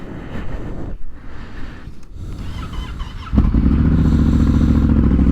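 A 2016 Yamaha Super Tenere motorcycle with a Yoshimura exhaust cranks and fires up, settling into a loud, steady idle with a throaty rumble nearby.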